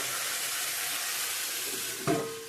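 Potatoes, tomatoes and brinjal frying in oil in a pan, a steady close sizzle throughout, with a brief louder clatter near the end as the pan is handled.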